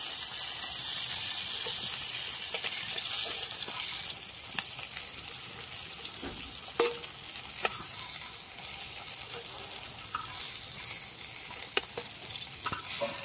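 Fish frying in oil in a pan, Aagri Koli style, a steady close sizzle with a few sharp pops and clicks scattered through, alone without talking.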